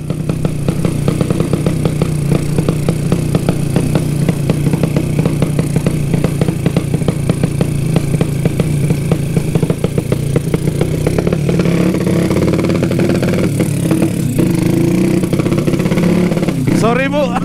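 A motorcycle modified to sound like a helicopter runs continuously and loud with a dense, chopping clatter, riding into a narrow alley, while people talk over the engine.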